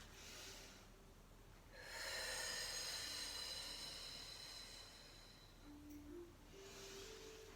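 One long, deep breath is drawn in through the nose during a stretching exercise, a close, airy rush that swells and then fades, framed by softer breaths before and after in a quiet room.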